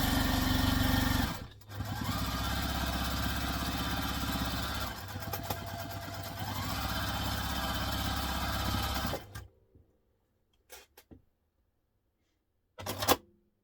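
A sewing machine bastes around the edges of a fabric diaper clutch, running in long steady stitching bursts with a brief pause, then stopping, followed by a few faint clicks and a short final whir.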